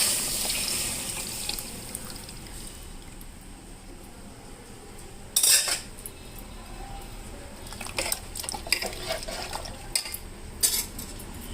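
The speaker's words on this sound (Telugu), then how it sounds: "ఇప్పుడు ఈ కలిపి పెట్టుకున్న సాంబారు దీంట్లో పోసేస్తాం" Ongole-style sambar is poured into a pan of fried chilli powder, giving soft, close liquid splashing and sloshing with a few sharp utensil clinks against the pan. No one speaks.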